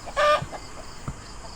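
A chicken gives a short squawk followed by a couple of soft clucks, close by, with quiet background noise.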